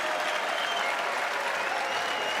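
Applause from the crowd at a grand final event: a steady, dense wash of clapping that holds at an even level throughout, with no breaks.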